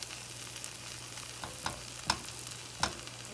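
Scrambled eggs for migas cook in a pan with a quiet, steady sizzle, broken by a few distinct spatula scrapes and taps as they are stirred, no voices.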